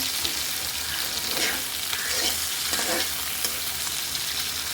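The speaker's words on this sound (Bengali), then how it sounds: "ট্যাংরা মাছটা হালকা একটু ভেজে নিচ্ছি যাতে কাঁচা গন্ধ না বের হয়" Tangra fish fry lightly in hot oil, a dense, loud, continuous sizzle with crackling swells that rise and fall in waves, close up and with no voices.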